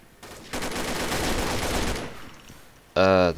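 Gunfire in the video game Combat Arms: a dense, rapid burst of shots rattles for about a second and a half, then fades out, followed by a short, loud tonal sound at the end.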